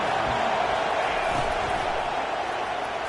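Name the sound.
stadium crowd roaring in a football video game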